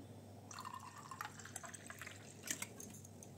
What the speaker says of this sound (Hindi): थोड़ा सा डाल दें इसमें आइस और ठंडा ठंडा पानी